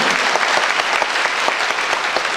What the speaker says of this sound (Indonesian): Boleh tepuk tangan untuk Prudential.